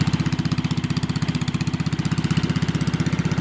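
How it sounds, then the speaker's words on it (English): A homemade inverter generator engine idles close by, loud and steady, giving off a rapid, even chugging pulse of exhaust beats. "I've got the homemade inverter generator out here"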